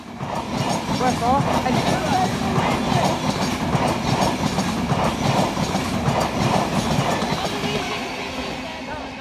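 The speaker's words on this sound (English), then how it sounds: "LNER. Speeding through, I think, yes. Going straight through Durham." An LNER express train speeds straight through Durham station, a loud continuous rumble and clatter of wagons passing close by for the whole stretch before easing slightly at the end, with a brief voice over it.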